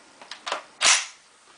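Airsoft Mk 16 SCAR gas blowback rifle firing, a few light clicks followed by one sharp, close hissing pop, brief and loud, with no talking.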